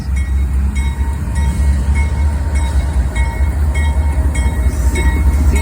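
A CSX intermodal freight train rolls past close by, a loud continuous low rumble with regular clicking of wheels over rail joints and steady metallic rattle throughout.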